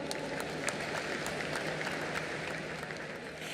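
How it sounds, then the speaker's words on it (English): Steady, dense applause from a large crowd at the closing ceremony of the 53rd International Film Festival of India fills the whole stretch without pause, loud and continuous with no voices rising above it. "A huge round of applause for Nadav Lapid, everybody."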